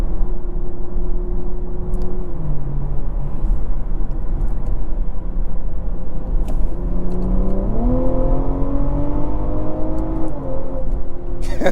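A 2024 BMW M340i Special Edition in traffic downshifts and accelerates, its engine note dropping then climbing steadily in pitch through the rev range, loud and continuous over road and wind roar from inside the cabin.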